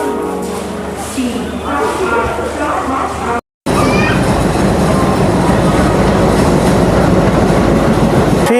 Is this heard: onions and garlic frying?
no